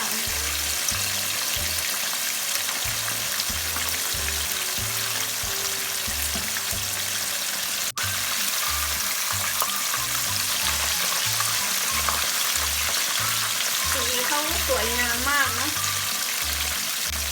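Chicken pieces, skin side first, deep-frying in hot oil on high heat for a second fry, a loud steady sizzle and bubbling throughout with a brief clatter partway through.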